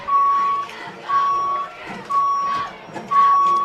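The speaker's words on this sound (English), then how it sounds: "that 18-wheeler just continues to beep and beep" An 18-wheeler truck backing up sounds a steady series of four loud reversing beeps at a regular pace, set against open outdoor ambience at a middle school football game.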